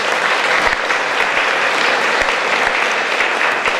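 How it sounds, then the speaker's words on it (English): Loud, sustained applause from a large audience at a radio station's 20th anniversary gala, a dense continuous wash of clapping heard on its own. "Please give him a round of applause."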